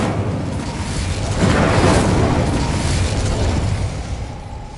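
Fiery blast of the Incendio spell in Hogwarts Legacy, a dense roaring whoosh that swells after a moment and slowly fades, loud and close.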